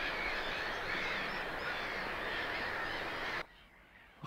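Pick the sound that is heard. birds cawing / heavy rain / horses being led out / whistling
birds cawing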